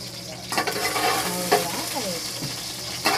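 Garlic hits hot oil with a bright, crackling sizzle, and short bursts of spatula scraping and stirring punctuate the frying noise.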